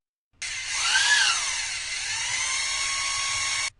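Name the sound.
power drill switched on and spinning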